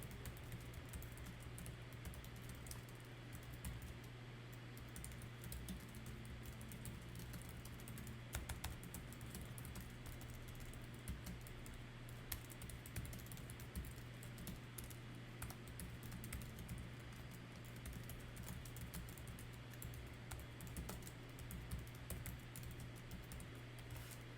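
Steady computer keyboard typing runs throughout, soft and fairly distant, a continuous patter of keystrokes over a low hum with no voices.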